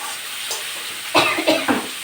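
Fried ginger and green chilli paste tipped into a pot of khichuri gives a soft hiss with three quick splashy bursts of sizzling close by, no talking over it.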